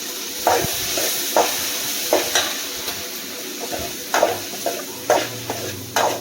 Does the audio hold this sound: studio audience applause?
no